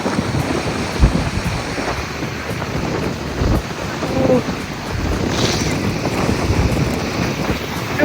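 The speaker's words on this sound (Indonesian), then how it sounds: "Anginnya deras sekali." Strong wind roars across the microphone in continuous gusts at a beach in Yogyakarta, mixed with the wash of surf, with brief bumps and faint voices in the background.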